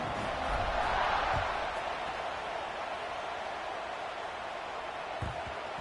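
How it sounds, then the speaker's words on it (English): Stadium crowd in the CFB26 college football video game, a broad steady roar of many voices holding at an even level throughout, with a couple of faint low thumps. "this crowd is buzzing after that last score"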